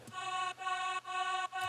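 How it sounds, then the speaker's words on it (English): A short vocal sample from an FL Studio electronic track: a sustained, harmonically rich tone that drops out briefly three times, repeating at a steady rhythm. It plays alone at moderate volume with no talking. "Another vocal sample."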